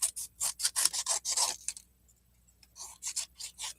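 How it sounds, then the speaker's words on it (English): Scissors cut a plate down to size in a close series of short, rhythmic snips and rasps. A pause falls midway, then more cutting strokes follow, with no talking. "I take one of my plates and I put it on here, and I just cut it down to size"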